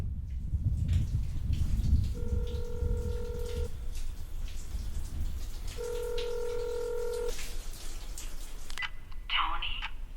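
Two bursts of telephone keypad dialing tones in a drama teaser, each about a second and a half long and clearly heard over a low rumbling background with faint rain-like hiss.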